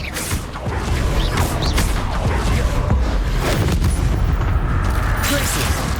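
Expelliarmus disarming spell cast in Hogwarts Legacy combat, several sharp impact cracks and booms within dense, continuous battle noise that runs throughout.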